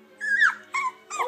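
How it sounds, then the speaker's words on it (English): Two-week-old fox red British Labrador puppies whimper in three close, high, wavering cries, each rising then sliding down, with brief quiet gaps between them. "Little fox red puppies."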